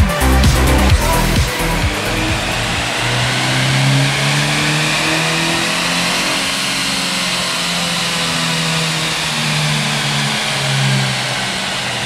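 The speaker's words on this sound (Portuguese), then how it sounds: "Eu consegui pisar mesmo depois de 4 mil giros." A 2012 Chevrolet Cruze LT with automatic transmission accelerating hard beyond 4000 rpm, a loud, close engine roar climbing in pitch and holding a strained drone, with no talking.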